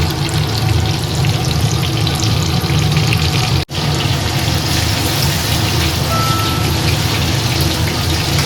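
Chicken pieces fry four or five at a time in a pan, a loud, dense, unbroken crackle and sizzle with one sudden brief drop in sound partway through.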